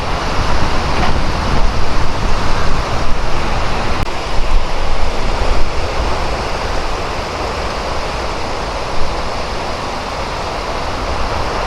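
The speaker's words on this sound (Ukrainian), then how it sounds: "хвилі інколи досягають аж сюди" Sea waves wash steadily onto the shore at Limassol, Cyprus, in a loud, continuous roar of surf and rushing water, with no voices.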